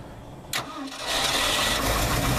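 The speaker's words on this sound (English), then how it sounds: "Thought if we had it close enough, it might go." An old truck engine that has sat unused for a while cranks with a sharp burst, then catches and settles into a loud, steady running roar that fills the rest of the moment.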